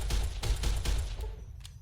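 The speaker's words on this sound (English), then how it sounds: "Not quite sure what I'm aiming at, but shooting in his general direction." Gunfire in Fallout: New Vegas, a quick run of four or five close, punchy shots at an even pace, then a faint last crack as things go quiet.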